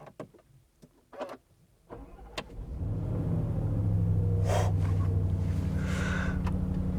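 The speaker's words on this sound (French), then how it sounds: "On entend bien le V8, même si c'est assez feutré, je dois dire." A Land Rover Defender V8 starts after a few clicks and small mechanical noises, then cranks and settles into a deep, muffled, steady idle rumble heard from nearby with no talking.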